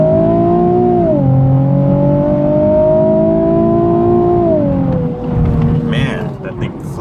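A 2016 Nissan 370Z Nismo pulls hard to 60 mph, its engine note climbing in a steady rising drone, dipping at a shift, then climbing again before easing off as the drive settles.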